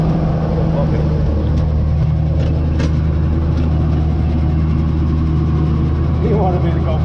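A tractor runs in high first gear through a creek crossing, its loud, close engine droning steadily the whole time, with faint voices in the background.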